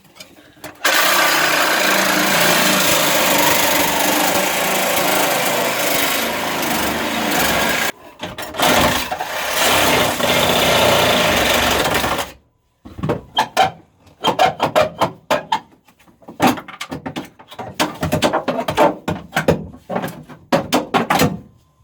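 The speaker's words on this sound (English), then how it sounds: "I'm just going to sawzall that bracket off and make some room so I can make a new bracket." A reciprocating saw cuts off a metal bracket on a 2002 GMC Safari AWD van, buzzing loudly and steadily for about eleven seconds with one short pause, followed by clunks, rattles and scraping as the part comes free.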